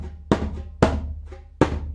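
Three deep bass strokes on a djembe, each a sharp thump with a booming low ring that decays before the next, played slowly and close by.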